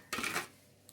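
A lid set down on a bowl of chicken 65 left to marinate gives a single short clatter of dish contact, followed by quiet and a faint tick near the end.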